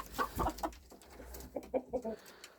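Several broody hens cluck in short, soft bursts at close range, with a few louder calls early on and quieter murmuring between.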